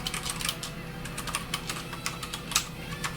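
Typing on an APT Hall Effect mechanical keyboard, a quick irregular run of close clacking keystrokes with one louder stroke near the end, no voices.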